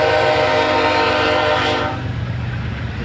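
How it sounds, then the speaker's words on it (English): A train passes behind a high school baseball field, its loud, sustained horn blaring for about two seconds before cutting off, leaving a rumbling rail noise that continues underneath. "And there goes the train behind us"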